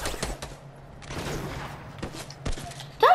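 Gunfire in a Fortnite match: scattered sharp shots and short bursts crack over a few seconds amid game noise, with a louder burst at the end.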